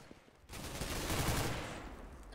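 Counter-Strike GO gunfire erupts after a short quiet lead-in: a sustained, dense volley of rapid automatic shots, loud and close, running to the end without talk.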